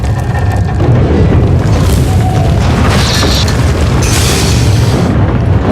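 A heavy, continuous ground-quake rumble shakes the planet Makeb in a Sith Warrior game, a loud low roar with grinding debris and bursts of hiss swelling midway and again toward the end.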